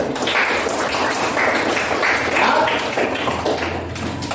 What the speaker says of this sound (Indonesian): mari kita tepuk tangan untuk kalian